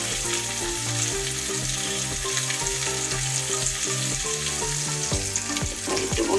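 Apple slices sprinkled with sugar fry in a pan for an apple pancake, giving a loud, continuous sizzle with occasional clinks and stirring scrapes.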